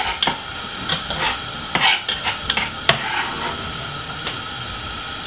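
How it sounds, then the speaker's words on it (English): White onion and mixed peppers stirred in olive oil in a frying pan, with a soft sizzle under irregular scrapes and knocks of the utensil against the pan, close and fairly loud. "Give it a good stir for about 2 minutes."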